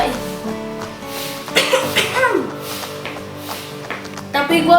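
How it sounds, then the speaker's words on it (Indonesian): A restrained, self-conscious cough, kept small and polite, sounds once or twice over steady background music. "Yang ketiga, batuk jaim."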